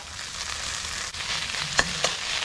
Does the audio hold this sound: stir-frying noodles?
yes